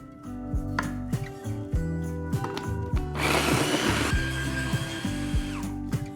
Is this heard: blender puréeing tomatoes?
yes